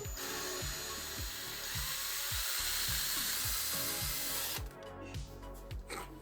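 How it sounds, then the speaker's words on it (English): A power drill bores through a plastic tab on a fifth-generation Toyota 4Runner during a snorkel install, a loud, close, steady whine with regular rhythmic pulses that cuts off near the end, leaving softer handling noises. "Drills through wiring harness."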